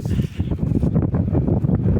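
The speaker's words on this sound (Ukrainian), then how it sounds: "тут дуже сильний вітер" Strong mountain-pasture wind buffeting the microphone in loud, uneven gusts, a rumbling roar with no other clear sounds.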